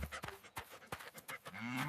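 A cow lowing in a children's animal-sounds setting, one short moo rising at the end after a few quick thumping noises, fairly faint and heard alone.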